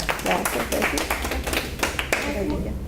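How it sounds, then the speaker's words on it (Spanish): Scattered applause from a small audience at a Spanish-language chemistry talk, individual claps standing out sharply and close, with talking running alongside. "Muchas aplausos."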